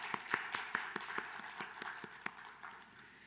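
A church congregation claps together, a sparse run of about a dozen sharp, evenly spaced claps that thin out and fade over a few seconds in a reverberant room.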